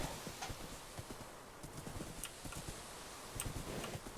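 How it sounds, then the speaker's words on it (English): Steady clip-clop of horse hooves at a walking pace in the video game Dark Times, fairly close, over a low rumbling ambient background. "My own horse's hoof steps make a noise that I did not expect."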